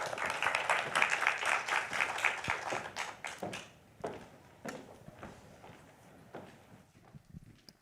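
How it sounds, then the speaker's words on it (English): An audience at a climate solutions festival session welcomes a speaker with a round of applause. The clapping is loud and dense for about three seconds, then thins out to a few scattered claps that fade away. "Round of applause, please."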